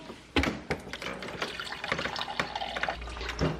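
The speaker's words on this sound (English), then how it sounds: "So I'm gonna fill my cup with half water, like so." Tap water running into a cup, a short close splashing pour with a few drips and gurgles, filling about halfway, with no voices.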